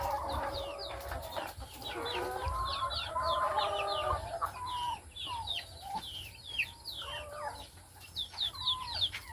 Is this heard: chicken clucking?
yes